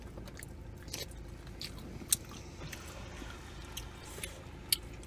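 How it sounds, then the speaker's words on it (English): Someone eating fries at a Swiss Chalet restaurant, with close, soft chewing and a couple of sharper crunchy bites over quiet background noise. "You're eating fries."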